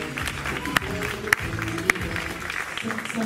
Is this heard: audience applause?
yes